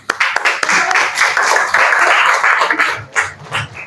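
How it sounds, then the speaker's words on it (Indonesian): A classroom group of students claps for the first presenting group, a brisk burst of many hands applauding together, fairly close and lively, with scattered voices mixed in. "kita kasih aplaus dulu untuk kelompok 1"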